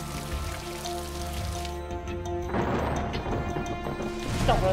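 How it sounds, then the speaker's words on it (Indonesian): Heavy rain pours steadily, and partway through a loud rumbling crash of thunder swells and lingers, with what sounds like music or drama underscoring in the background. "Petir, Pak Ahmad."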